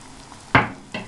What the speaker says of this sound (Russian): Снова все перемешиваем.